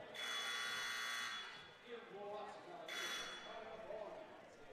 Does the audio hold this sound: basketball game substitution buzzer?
yes